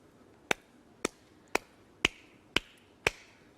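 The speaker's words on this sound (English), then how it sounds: "But if I clap quietly like this" Six soft, separate hand claps spaced evenly about half a second apart, each a short sharp crack that dies away quickly, with nothing else heard between them.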